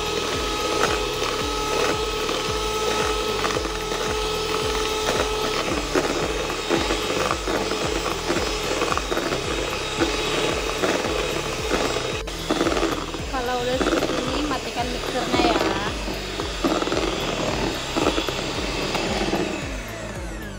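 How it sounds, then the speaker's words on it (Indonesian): Electric mixer whipping eggs at its highest speed for a black forest cake batter, a loud continuous whirring drone with a rattling, clattering texture throughout, no talk. "mixer dengan kecepatan tertinggi kurang lebih 5 menit sampai bentuknya putih berjejak"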